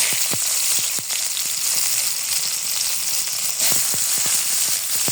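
Green chilies and onion frying in hot oil, a loud, dense crackling sizzle with sharp pops and spatters scattered throughout, close up and continuous.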